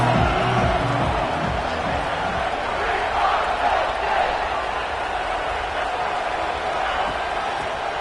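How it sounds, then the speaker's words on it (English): A football crowd in a stadium roars in a broad, steady wash of cheering after a big fourth-down defensive stop, sustained and loud across the whole stretch. "A quick cheer."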